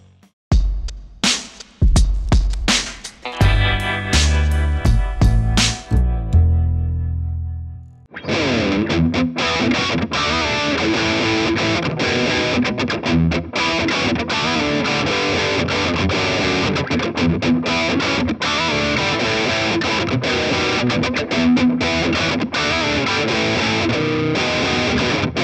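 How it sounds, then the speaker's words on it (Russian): Electric guitar played through a Yerasov SCS HD-10 distortion pedal, a Russian-made three-band-EQ distortion with high-gain German amp character: a few clean-ish picked notes, then a loud, dense, sustained distorted riff, alone with no talking. "сегодня мы испытываем дисторшн Ерасов HD10 серии SCS"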